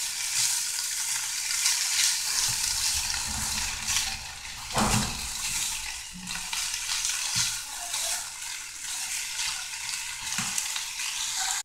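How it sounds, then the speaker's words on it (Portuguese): Pork-leg linguiça sausage fries in a pan, sizzling loudly and continuously up close, with occasional stirring clatters and scrapes and no voices. "150 gramas de linguiça. Linguiça mesmo de pernil. E vamos dourar ela aqui."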